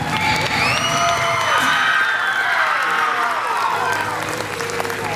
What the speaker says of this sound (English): How about a round of applause for the director of Siva Moana, Moana Manuo.